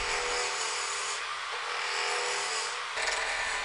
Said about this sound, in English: To make my square blank round, I'm using a spindle roughing gouge and a bevel rubbing cut.